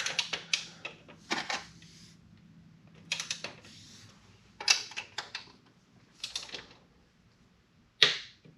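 A ratchet torque wrench tightens a part on a 2024 Yamaha R1 motorcycle to 12 Nm, giving short bursts of sharp clicking in several separate rounds, close by and fairly faint.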